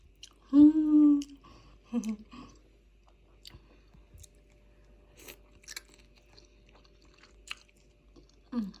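Quiet, close chewing of a meal that includes cabbage, with soft crunches and wet bites scattered between pauses and a brief hum from the eater early on.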